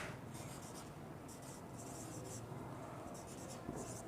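Chalk or marker writing on a board during a solid state physics lecture makes faint, quiet scratching strokes in short bursts over a low steady room background, with no one speaking.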